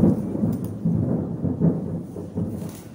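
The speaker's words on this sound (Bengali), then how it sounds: "বাইরে প্রচন্ড জোরে মেঘ গর্জন করছে আর বিদ্যুৎ চমকাচ্ছে" Deep thunder rolls on and on outside during a lightning storm, a low, heavy rumble with a faint hiss of rain underneath.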